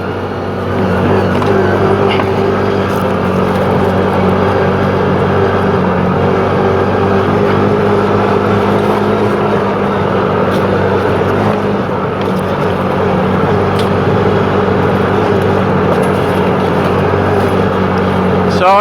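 A CFMOTO ZForce 500 side-by-side driving on sandy terrain, its engine a steady, loud, droning hum with a continuous low rumble and wind noise lasting throughout, with little change in pitch.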